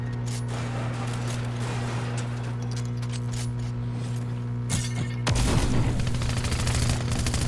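Minigun fire in Fortnite, a rapid dense stream of crackling shots running throughout, growing louder and heavier near the end, over a steady background hum with no talking.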